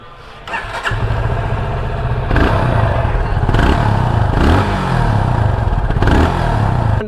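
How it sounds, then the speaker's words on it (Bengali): A Yamaha FZ25 motorcycle exhaust starts up and settles into a steady idle, with a couple of throttle blips raising the engine note; loud, close and continuous, with no talking. "এক্সস্টের সাউন্ডটা শোনাই"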